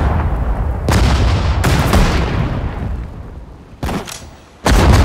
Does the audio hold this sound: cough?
no